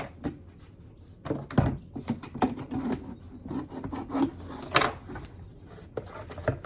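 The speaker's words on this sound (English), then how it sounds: "you're going to cut around your jug till you get to where you can flap the top." Scissors or a blade cut around a plastic milk jug, giving a run of uneven crackling, rasping snips and scrapes, close and fairly loud, with no talking.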